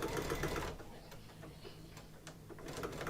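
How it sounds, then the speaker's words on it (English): An embroidery sewing machine runs forward and then back stitches, a short burst of close stitching followed by quieter ticking and clicking as the stitching direction changes, with no voices. "And back stitch Karina."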